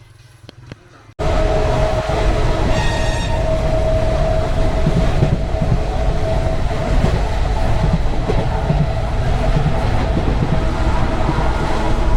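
A train at Sealdah railway station in Kolkata rumbles loudly and steadily after a sudden onset, with a faint horn-like tone early on and continuous rail noise close by.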